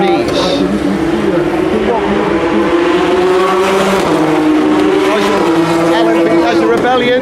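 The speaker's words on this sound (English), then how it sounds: "There go the two Porsches," Porsche and Audi prototype race cars roar past on a racing circuit, their engines a loud, continuous overlapping howl with pitch sweeping up and down as several cars pass in quick succession.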